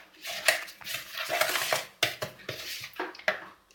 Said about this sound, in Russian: и перемешиваем.